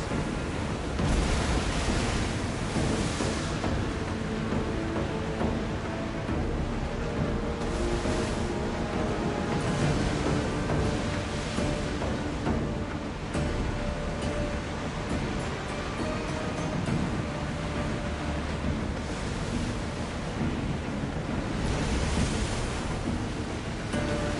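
A ship under sail in Assassin's Creed Odyssey pushes through open ocean, with continuous loud surf and wave wash mixed with wind noise for the whole stretch, and no voices heard.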